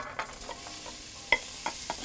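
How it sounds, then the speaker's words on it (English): Chopped vegetables sizzle and get stirred in a hot pan in a Northern Italian village kitchen as the base for braised rabbit, with soft frying hiss and a few sharp scraping stirs close by. "And then we're going to fry off our veg."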